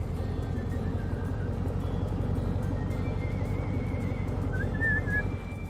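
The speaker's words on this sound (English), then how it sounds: "that guy in the background can whistle" A man whistles a wandering tune in the background on a farm, thin and moderately distant, over a steady low engine rumble throughout.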